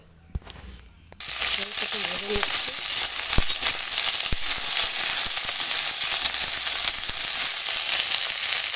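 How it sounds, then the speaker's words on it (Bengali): Cauliflower pieces sizzle in hot oil in a home kitchen, the bright steady hiss starting abruptly after a quiet moment and running loud and continuous with a few clicks of stirring. "এগুলো ফুলকপি ভাজা হয়ে গেছে"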